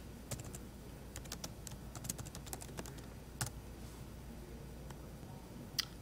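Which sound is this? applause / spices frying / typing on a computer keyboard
typing on a computer keyboard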